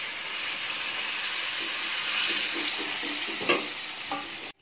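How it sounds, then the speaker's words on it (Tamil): Mashed banana frying in ghee for halwa, a steady close sizzle with soft stirring scrapes and clanks of a utensil against the pan, ending abruptly. "அடுத்து அதே நெய்லேயே நம்ம பிசைஞ்சு வச்ச வாழைப்பழத்தை சேர்த்துக்கோங்க."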